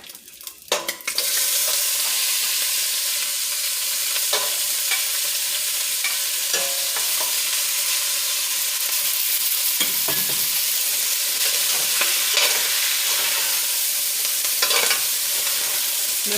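Vegetables sautéing in a pot for Jamaican brown stew fish: a loud, steady sizzle begins after a brief clatter, with occasional stirring scrapes and clicks throughout, close by and without talk.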